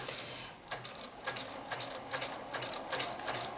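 A sewing machine stitches a bunny table topper in a continuous run, its needle ticking in a quick, even rhythm, moderately close with no talk.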